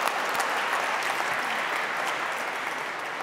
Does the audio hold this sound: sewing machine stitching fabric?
no